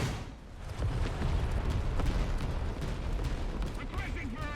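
Artillery barrage in War Thunder during M4A1 75mm Sherman tank gameplay: a dense, continuous roar of distant explosions and gunfire rumbling steadily, with faint chirping tones near the end.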